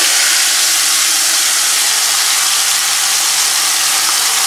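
Marinated chicken pieces sizzling in a little hot oil for chicken tikka masala, giving a loud, steady, broadband hiss that runs unbroken from start to finish with no voices.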